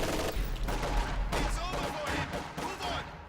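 Machine gun fire in a real-time strategy video game, dense rattling bursts layered over booming explosions, loud and continuous, with someone commentating over the battle.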